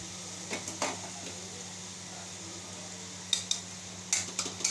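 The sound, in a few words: spice paste with ginger being sautéed and stirred in a pan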